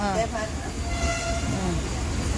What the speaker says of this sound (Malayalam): വന്ദേ ഭാരത് പോന്നു